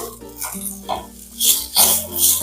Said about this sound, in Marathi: की मस्त चटचट आवाज येत आहे, याचा अर्थ हा हुरडा भाजून झालेला आहे